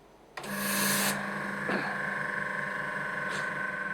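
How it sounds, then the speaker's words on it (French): A small cooling fan on a Nardi Extrême SIL2 dental compressor switches on with a brief rushing surge, then settles into a steady, close mechanical hum with a constant tonal whine. "Dès que vous branchez le compresseur, vous entendez le petit ventilateur qui se met en marche."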